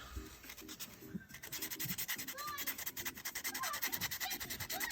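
Sponge sandpaper rubs back and forth over the tread of a small 3D printed model wheel for a 1/32 Kitty Hawk Mirage 2000D, making a soft, steady, close scratching in quick repeated strokes.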